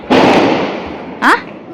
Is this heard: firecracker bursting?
yes